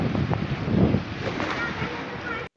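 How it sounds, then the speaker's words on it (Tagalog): Strong wind buffets the microphone in gusts at a private resort in Batangas, a rough low rumble with a voice speaking over it, cutting off abruptly at the end. "Talagang umuuga naman sa lakas ng hangin."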